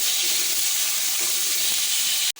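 Cut potatoes land in hot mustard oil already seasoned with turmeric and salt, raising a steady, loud, bright sizzle that holds for a couple of seconds and then cuts off sharply.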